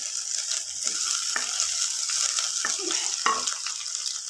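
Green onions and garlic sizzle in hot oil while being stirred for saag, a steady hiss with sharp scraping clicks from the utensil against the pan.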